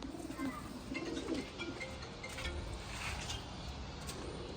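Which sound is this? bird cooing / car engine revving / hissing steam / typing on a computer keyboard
bird cooing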